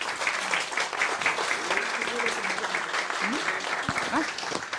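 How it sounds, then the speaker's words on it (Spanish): An academic audience applauds a doctor after a talk on photo-assisted reactor design, steady crowd clapping with faint voices murmuring underneath throughout. "Un aplauso a la doctora."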